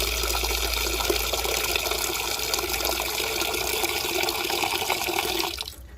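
Water pours steadily into a container for a second rinse of eel meat being prepared for a spicy stir-fry, a continuous full gush that cuts off near the end.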